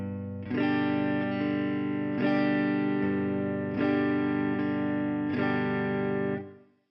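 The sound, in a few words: guitar country strumming in G with alternating bass notes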